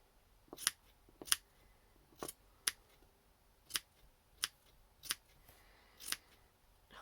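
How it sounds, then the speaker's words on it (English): Scissors snip through 60-year-old wool from the 1960s during slow hand stitching, about ten crisp, close cuts at an irregular pace in a quiet room. "I love the snip of scissors as well."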